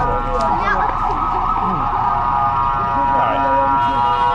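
Wailing sirens rise and fall continuously amid loud traffic noise in Ramallah, with several overlapping tones sweeping up and down.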